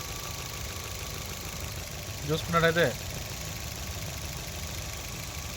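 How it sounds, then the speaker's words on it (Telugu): A 2020 four-cylinder petrol car engine idles with a steady, quiet hum throughout, while a person speaks briefly partway through. "ఇంజన్ కూడా సైలెంట్గా ఉంది రన్నింగ్లో ఉంది చూడొచ్చు"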